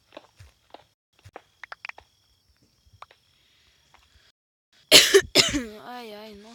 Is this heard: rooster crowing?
no